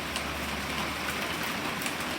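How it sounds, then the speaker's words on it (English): Rain keeps coming down in a steady, dense hiss, a brief continuous wash of falling water with a faint low rumble beneath and no talking. "rain keeps coming down"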